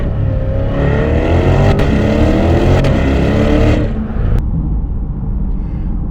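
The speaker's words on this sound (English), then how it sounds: "The roar of that engine sitting right behind us." A Chevrolet C8 Corvette's mid-mounted engine roars loud and close just behind the seats, revving up in a rising sweep before dropping back to a rough, rumbling idle.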